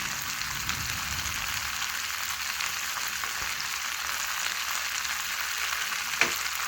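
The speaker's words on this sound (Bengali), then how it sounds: "এইভাবে ফোটাতে ফোটাতেই দেখবেন যখন হয়ে আসবে তখন ঘিটা লাল হয়ে যাবে" Homemade ghee bubbling and frying in a pan, a dense, steady crackling sizzle heard up close without a break, with one small tap near the end.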